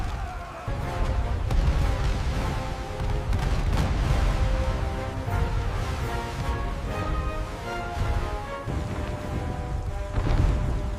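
Cannon fire from a ghost pirate ship fighting a British Royal Navy fleet in a stormy sea battle simulation, a loud continuous barrage of booms and blasts overlapping with rumbling low roar.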